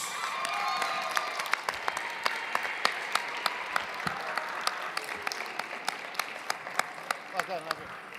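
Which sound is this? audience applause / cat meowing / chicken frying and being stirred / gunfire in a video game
audience applause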